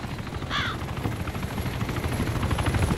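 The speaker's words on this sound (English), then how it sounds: "I was reloading to kill a bird." Crow-like caw from a bird in the military game Arma 2, a short harsh call heard once early on over constant game ambience and rumbling engine noise.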